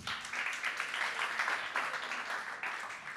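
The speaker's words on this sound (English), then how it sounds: "So applause for him." Applause from staff at a company weekly breakfast, a steady wash of many hands clapping that holds evenly for a few seconds, moderately distant and filling the room without talk.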